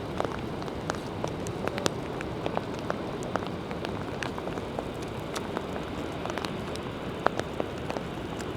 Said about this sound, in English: So we had a full-on thunderstorm.